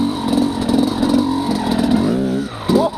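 A motorcycle fitted with a SmartCarb SC2 carburettor pulls hard in first gear without the clutch, lifting its front wheel. The close, loud engine climbs steadily in pitch, drops off, then blips again.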